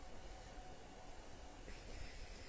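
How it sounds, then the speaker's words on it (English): A faint, steady low rumble of a train passing on a railway line in the distance near All Saints church, Grendon, with no talking. "You can hear the railway line"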